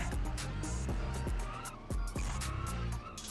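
Diesel car engine in a viewer-made video game mod, revving with repeated short tire squeals and skids over a steady engine drone, close and moderately loud, heard alone without talk.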